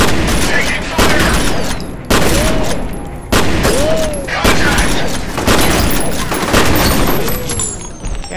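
Bursts of gunfire in the shooter game F.E.A.R. go off loud and close in repeated volleys about once a second, sharp cracks with booming tails and whistling ricochets, under occasional radio-style speech.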